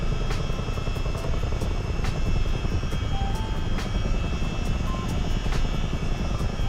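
CH-47 Chinook helicopter in Microsoft Flight Simulator performing a pedal turn, a loud steady rotor drone with rhythmic blade thumps pulsing about twice per second throughout.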